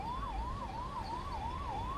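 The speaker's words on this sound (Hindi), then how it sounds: "एम्बुलेंस चिल्ला चिल्ला के कह रही है कि मुझे रास्ता दो।" An ambulance siren wails in a steady rising and falling pattern on roads blocked during a farmers' protest near Delhi, continuous and moderately close.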